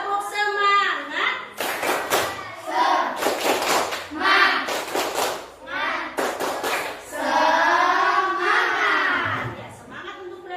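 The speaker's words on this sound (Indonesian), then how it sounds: "kita lakukan tepuk dulu ya" Students in a classroom perform a rhythmic spirit clap routine led by their teacher, bursts of clapping alternating with chanting voices, loud and close throughout.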